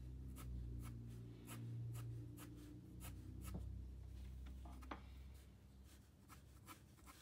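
Pencil drawing two-point perspective cubes on paper, a steady close scratching of graphite strokes with short repeated lines and brief pauses throughout, no voices.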